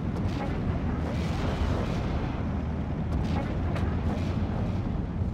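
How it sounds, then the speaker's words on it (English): Off-map artillery fire in Steel Division: Normandy 44, a dense rumble of distant explosions and booms rolling continuously, with a few sharper bursts standing out from the low, steady roar. "And more off-map artillery coming in."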